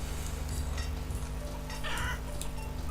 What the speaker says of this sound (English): There's a load of chickens in there.